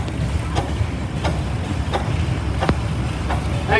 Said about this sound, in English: Next tractor coming down the track here